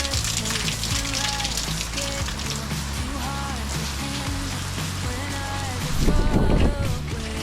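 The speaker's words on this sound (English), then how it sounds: "The rain started coming sideways and it was very wet outside" Heavy rain hisses steadily outdoors during a wet, windy spell, with a dense, constant patter and a louder gust-driven burst near the end, under faint background music.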